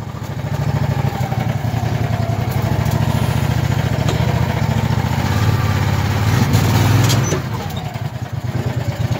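A Landmaster utility vehicle's small engine runs steadily nearby, a loud continuous buzzing drone that dips and rises briefly near the end, with no clear talk.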